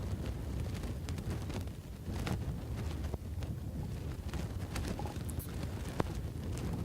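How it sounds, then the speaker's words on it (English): Strong wind gusting across an outdoor golf course during a college golf championship, a steady low roaring rush buffeting the microphone throughout with no voices. "The wind has been whipping most of the week"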